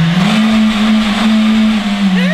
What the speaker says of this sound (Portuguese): Acelera, corta o giro, vai!